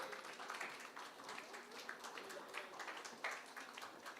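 Applause from a theatre audience welcoming a stage team, a steady fairly faint patter of many hands clapping throughout, slightly distant.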